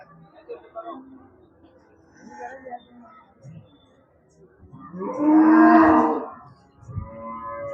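Cattle and native buffaloes at a livestock market in Melapalayam, Tirunelveli, with a loud, drawn-out moo rising near the end amid scattered market voices and background chatter.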